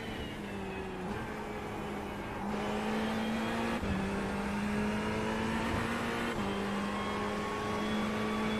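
GT3 race car engine in iRacing at Monza, sustained loud drone with steady pitch climbing through each gear and brief dips at shifts, accelerating hard alone without talk.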